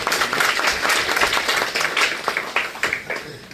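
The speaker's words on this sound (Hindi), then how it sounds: "तो उसके लिए सबसे पहले तालियां बजती हैं" Audience clapping at a road safety awareness function in a conference hall in Kargil, a short burst of scattered applause with uneven, fairly close hand claps lasting a few seconds.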